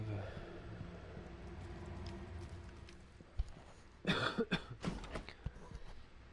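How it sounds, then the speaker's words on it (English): A few short coughs and throat clearing burst out near the end, close and fairly loud, after a stretch of quieter game sound and talk in Prey on PS4. "Cough a little bit."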